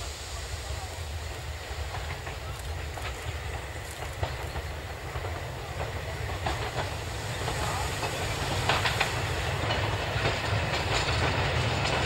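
A steam train passes on a German railway near Lindenberg during an autumn steam event, a steady rolling rumble with faint rhythmic rail clatter and hiss that grows a little louder toward the end.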